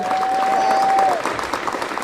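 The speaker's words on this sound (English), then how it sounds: "Give a round of applause" Audience applause at a press event at Kansas City International Airport, a fairly loud, steady patter of clapping from a gathered crowd, with a brief tone early on and clapping continuing as it thins slightly.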